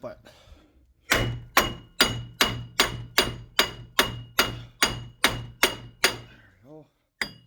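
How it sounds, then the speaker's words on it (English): Metal hammer blows strike a car's wheel bearing hub assembly on a Grand Am GT, a steady series of about sixteen sharp, ringing clanks at an even pace, close and loud, then a brief pause and one final strike. "I can't really hammer while I'm doing this"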